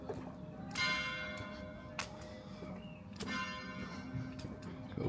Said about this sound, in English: As the bells go off, look.